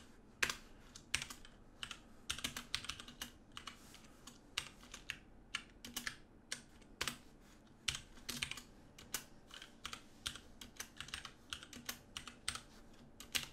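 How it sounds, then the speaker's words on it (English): Random numbers are tapped out on a computer keyboard in a steady, uneven stream of crisp key clicks, close and fairly quiet, with no voices. "So just quickly type out some random numbers."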